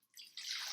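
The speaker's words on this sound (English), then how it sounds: "I'm going to pour my broth into" Bone broth, boiled and cooled, is poured from a pot into a mixer, making a brief, soft, rising splashing gush of liquid up close, with no talk.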